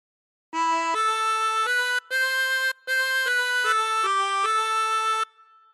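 Solo harmonica playing a short melodic phrase, about eight reedy notes in a steady sequence with brief breath gaps, close and clear with no voices.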